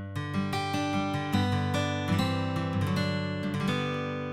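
Older steel-string acoustic guitar sound from the MusicLab RealGuitar virtual instrument, strummed and picked in a steady rhythm of bright, ringing chords, close and fairly loud, with no voices.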